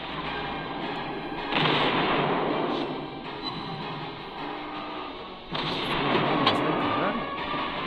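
In World of Warships, the Italian gunboat RMI Eritrea fires its guns in a dense, continuous roar of artillery booms and rumbling that swells twice, layered under a steady game soundscape.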